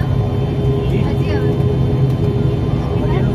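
A passenger airplane's engines roar steadily inside the cabin as it accelerates during takeoff, a loud broad rumble, with a voice briefly heard over it.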